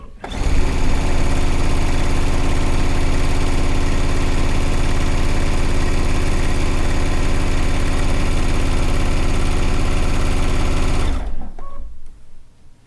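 A sewing machine runs continuously while stitching down a log cabin quilt top, a loud, fast, even mechanical whir that holds steady for about eleven seconds, then cuts off abruptly into near silence.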